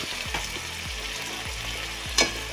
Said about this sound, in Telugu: అలాగే టమాటాలు కూడా వేసుకున్నాం సరిపడంగా